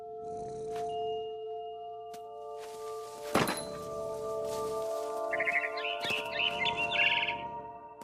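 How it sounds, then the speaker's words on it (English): Barn swallow chirps in What Remains of Edith Finch come through as a few short bright bird calls, closer and busier near the end, over a steady tonal game background with a dull thump midway. "Then I heard chirping outside my window. It was a barn swallow going back to her nest."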